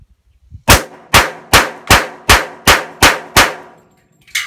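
A pistol firing Perfecta .45 ammunition lets off eight sharp, loud shots in an even, steady rhythm, each crack followed by a short ringing decay.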